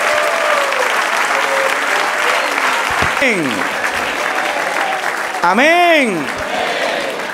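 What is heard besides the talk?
congregation applause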